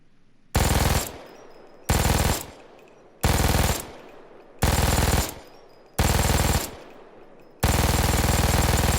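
An MG-42 general purpose machine gun in Payday 2, fired in five short loud bursts with brief pauses between them, then a sustained full-auto stream at the end, with no talking.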